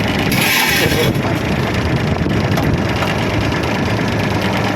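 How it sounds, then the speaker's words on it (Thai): A tractor engine runs with its PTO shaft turning, a loud, dense low rumble with mechanical rattle, close and steady throughout, with a brief brighter burst near the start. "พีทีโอหมุนตามได้ปกตินะครับ"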